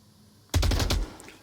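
A rapid burst of automatic gunfire rattles in the VR shooter Onward, about half a second of closely spaced, loud shots ending abruptly, heard alone with no talk.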